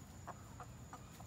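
Several chickens, including Marans and an Australorp, give soft, separate clucks spaced about a third of a second apart, faint and somewhat distant over a quiet hum.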